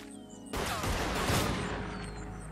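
A dense, roaring burst of gunfire erupts in the tactical shooter game Tastee Lethal Tactics, loud and sustained for about two seconds after a brief quieter lead-in.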